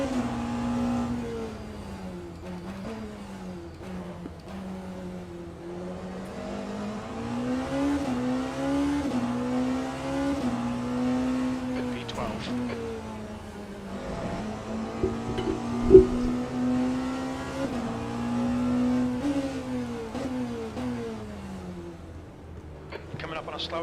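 Race car engines in the Le Mans Ultimate game drone and rev continuously around the Bahrain circuit in a Porsche GTP. Pitch rises and falls through gear changes, with one brief sharp spike midway, while a voice talks throughout.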